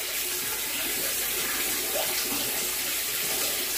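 Steady broadband rush of water gushing from a household tap as air trapped in the supply pipe escapes with the flow, continuous and fairly loud throughout with no voices.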